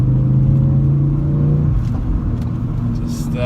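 A Ford Focus RS with a misfire and a failing fuel pump accelerates on the road, its engine rumble rising steadily up close before the revs drop back, with a voice briefly audible over it.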